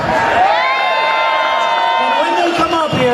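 A large crowd cheers and whoops for gubernatorial candidates at a political gathering, a loud sustained roar of voices.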